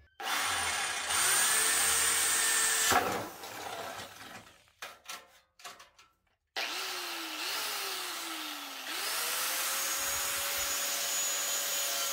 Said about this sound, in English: all you're trying to do is drill a hole right at the end of that crack